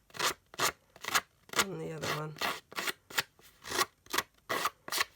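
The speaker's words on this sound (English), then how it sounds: "so I'm just going to use my scissors" Scissors roughing the edges of paper for a junk journal doily pocket page make quick rhythmic snipping and rasping cuts, close and steady, while a voice briefly talks over them.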